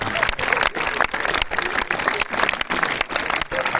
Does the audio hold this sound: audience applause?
yes